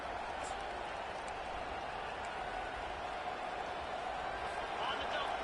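A home stadium crowd roars steadily in a college football video game, Iowa against Wisconsin, on a third down late in the half, a dense, continuous wash of cheering with no commentary over it.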